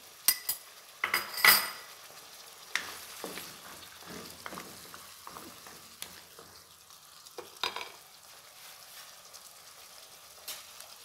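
Potatoes and chopped green chillies cook in a pan with spices, faint sizzling under sharp clinks and scrapes of a spoon stirring against the metal, irregular and close.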